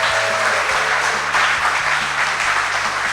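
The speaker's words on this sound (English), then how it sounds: "let's hear the round of applause" An audience at an investor summit gives a steady round of applause, dense clapping from many hands that stays even and fairly loud throughout.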